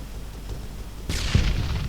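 Gunfire in the video game ARMA 3, with a sudden loud shot or blast breaking in over quiet background and a low boom trailing after.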